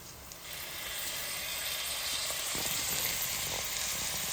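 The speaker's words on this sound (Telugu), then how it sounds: "అల్లం వెల్లుల్లిపాయ పేస్ట్ పచ్చివాసన పోయింది అందుకోసం ఇప్పుడు ఇంకా మటన్ వేసేస్తున్నాం" Mutton pieces dropped into a hot pan over ginger-garlic paste for a mutton masala curry, giving a steady, close, continuous sizzle and frying hiss throughout, with faint stirring clicks and no talking.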